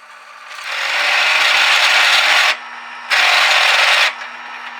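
Harsh rasping of metal being cleaned up on a drilled Kawasaki Vulcan 900 motorcycle license plate bracket, two long loud grinding passes with a brief pause between, close and without talk.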